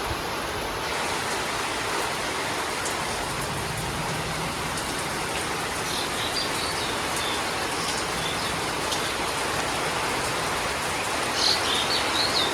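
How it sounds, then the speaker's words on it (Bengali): Steady rain falling during a dark, stormy spell, a dense and even hiss of drops on surfaces that stays constant throughout, with no voices. "আর এই যে দেখো বৃষ্টি পড়ছে"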